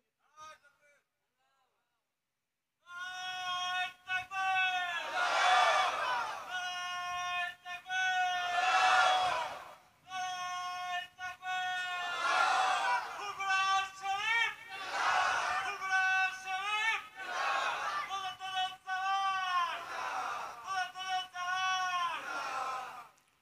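A large crowd at a Bengali Islamic sermon about the martyrdom of Imam Husain on the 10th of Muharram shouts takbir in unison, loud sustained chanted waves repeating several times after a brief quiet start.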